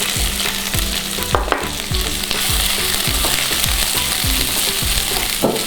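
Garlic and lengthwise-sliced onions frying in hot oil with a loud, steady sizzle, broken by regular rhythmic scrapes of a utensil stirring through the pan, with no talking.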